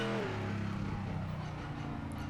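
A GT4 race car engine revs in the Project Motor Racing video game, the pitch dropping sharply at the start and then settling into a steady, loud drone.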